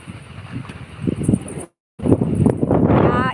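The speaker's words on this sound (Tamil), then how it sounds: "பயங்கர புயல் காத்து மாதிரி அடிக்கிறது இன்னைக்கு" Strong wind gusts roar outdoors as a steady broadband rush that surges and swells, cut by a short dropout partway through before the wind returns louder and rougher.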